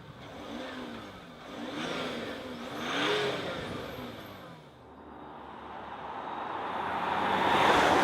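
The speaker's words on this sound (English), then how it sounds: "We start driving the Jaguar F-PACE, and we'll start with a dynamic test" A Jaguar F-PACE SUV with a diesel engine pulls away and accelerates in rising, swelling surges of engine noise, then a fuller roar builds toward the end.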